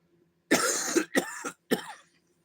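Three harsh coughs close to the microphone, the first long and rough, then two shorter ones, followed by quiet.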